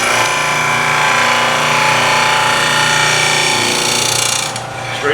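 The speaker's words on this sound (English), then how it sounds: "Flat on the grinder." An 8-inch bench grinder hollow-grinding a skew chisel laid flat on the tool rest, giving a loud, steady whirring grind with a metallic ring that holds for several seconds and then briefly dips near the end, no talking.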